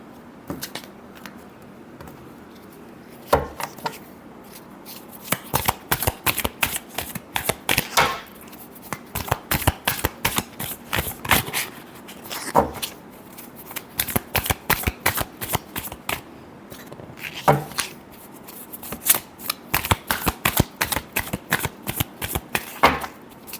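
Tarot cards are shuffled by hand, with quick bursts of crisp riffling and slapping that come in irregular clusters with brief pauses between them, close and clear.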